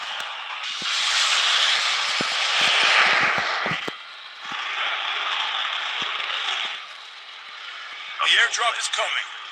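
Airdrop plane in the COD Mobile battle royale game passing overhead as a broad, hissing engine roar that swells and fades, mixed with game mechanism clicks and crackles while a voice speaks near the end.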